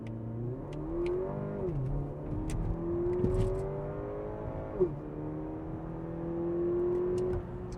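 A Porsche Macan T in Sport Plus mode pulls away under launch control, its engine rising steadily in pitch through two upshifts with a brief dip at each gear change, loud and close with no talking.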